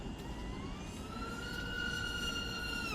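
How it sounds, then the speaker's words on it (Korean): A 5-inch SpeedyBee Master5 V3 FPV drone's motors whine in a steady high-pitched tone with rising harmonics during a throttle sweep, continuous and fairly loud over a broad noisy rush. "스로틀 스윕을 그래도 한번 해봐야겠죠?"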